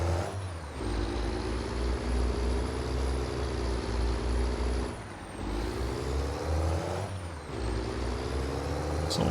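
An old, low-horsepower truck pulls away under a heavy load, its engine droning loud and close with a strained, steady rumble. Two brief dips mark gear changes, and an air-brake hiss is heard near the start.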